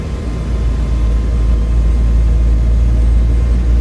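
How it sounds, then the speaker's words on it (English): MH60 helicopter in a flight simulator game, a steady heavy low rumble of the spinning rotors and turbine, loud and constant with no pauses. "Rotors are spinning."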